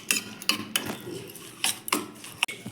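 A spoon stirs a semolina batter for a green pea and semolina recipe, giving several sharp clinks and scrapes against the bowl in an irregular rhythm, close and fairly quiet with no talking.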